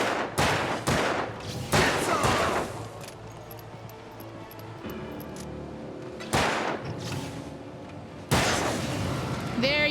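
Bursts of gunfire ring out during combat in Alan Wake Remastered, several loud clusters of shots separated by quieter gaps, with distant background sound between volleys.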